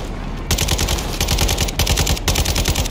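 Rapid automatic gunfire fired from a moving vehicle in the video game Call of Duty: Modern Warfare II, loud dense bursts with a brief gap, over engine rumble.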